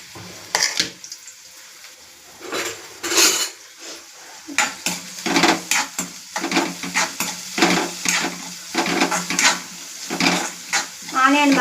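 Small onions fry in a pan for a chukkaaku curry, with gentle sizzling under repeated clinks and scrapes of a stirring utensil against the metal in irregular bursts, nearby and moderately loud.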